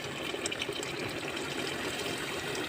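Boiling water pours into a pot in a home kitchen for a dish of rice with green beans, a steady close gushing splash with no talking.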